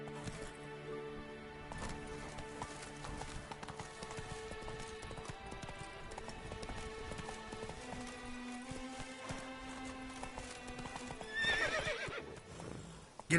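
Horse in a video game clip-clopping along at a gallop with repeated neighs and whinnies, a rhythmic steady hoofbeat under game music, with a louder burst near the end.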